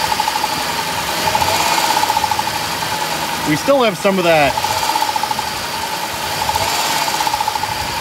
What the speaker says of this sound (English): these engines, brand new, almost sound like they have a little bit of piston slap